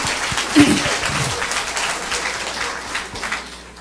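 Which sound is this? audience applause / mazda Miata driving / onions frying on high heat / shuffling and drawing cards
audience applause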